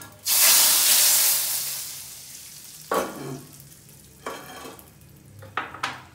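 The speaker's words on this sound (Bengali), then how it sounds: "এখন আমরা এই ভাজা জিরা এবং তেজপাতা এবং মরিচ এটা আমরা ডালের মধ্যে ঢেলে দিচ্ছি।" A hot tempering of fried cumin, bay leaf and chili hits a pot of dal with a sudden loud sizzling hiss that slowly fades, followed by several shorter splutters and stirring sounds, close up with no voices.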